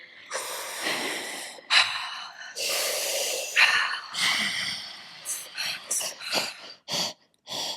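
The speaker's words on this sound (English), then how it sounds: "Our heavy breathing." Heavy breathing exercise for the pelvic floor: a run of deep, forceful breaths, with long drawn inhales and exhales at first, then quicker short puffs and snort-like bursts, loud and close, with no talk.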